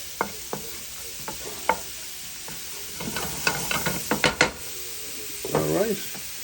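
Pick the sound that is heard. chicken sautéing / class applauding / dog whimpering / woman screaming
chicken sautéing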